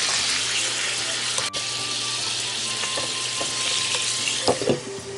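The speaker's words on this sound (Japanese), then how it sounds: "あとはこう蓋をして待ってるだけですね蒸し焼き" Food steam-frying under a lid in a pan with oil and sugar, a steady loud hiss and sizzle running throughout, with a few faint clicks and a small clatter near the end.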